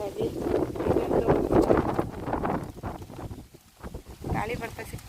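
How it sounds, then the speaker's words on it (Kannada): Strong gusts buffet the microphone on a terrace garden, giving a loud, rumbling roar that rises and falls in bursts and briefly drops away, with a voice talking faintly beneath. "ಗಾಳಿ ಬರ್ತಾಯಿದೆ, ಸಿಕ್ಕಾಪಟ್ಟೆ ಗಾಳಿ ಬರ್ತಾಯಿದೆ. ಹಂಗಾಗಿ ವಿಡಿಯೋ ಸ್ವಲ್ಪ ಇದಾಗ್ತಿದೆ, ಅಡ್ಜಸ್ಟ್ ಮಾಡ್ಕೊಳ್ಳಿ."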